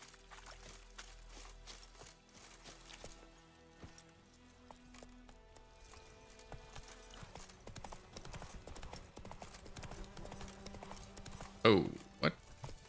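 Roach the horse galloping in The Witcher 3, steady rhythmic hoofbeats running through the whole stretch at moderate level with talk over them, ending in a brief louder burst.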